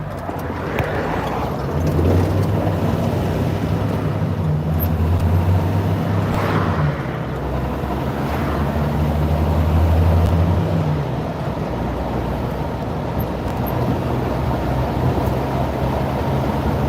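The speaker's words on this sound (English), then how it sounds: "I wait for traffic to clear now." Cars and larger vehicles roll past on a road near the edge of a trail during a four-wheeling outing, a steady loud rumble of tyres and engines that swells and fades as each one goes by.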